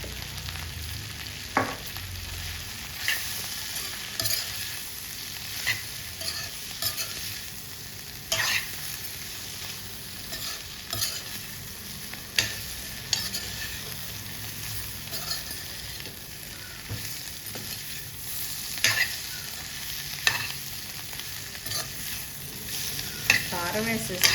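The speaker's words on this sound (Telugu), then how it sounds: "అడుగు పట్టిన దాన్ని గీగుతా ఇలా గీకుంటా" A spatula scrapes stuck prawn and ridge gourd curry off the bottom of a hot pan, giving repeated uneven scrapes and knocks over a continuous frying sizzle, close up and with no voices.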